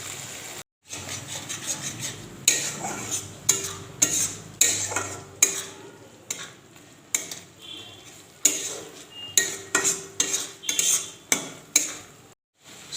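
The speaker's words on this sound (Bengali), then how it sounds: "সামান্য একটু জল দিয়ে একটু মশলাটাকে কষিয়ে নেব" Masala for a chicken and potato curry is stirred with a little water in a pan, with repeated sharp metal spoon clinks and scrapes in an irregular rhythm over a faint sizzle, with no voices.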